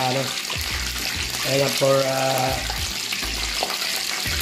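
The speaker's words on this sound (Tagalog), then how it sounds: "ilagay na natin sa hot oil" Breaded chicken, already air-fried, sizzles and crackles in hot cooking oil, a steady hiss with bubbling under a man's close, continuous talk.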